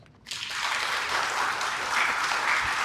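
Strong, sustained applause from an audience at a formal investiture ceremony, a dense even clatter of many hands that rises sharply after a brief quiet moment and keeps going steadily to the end.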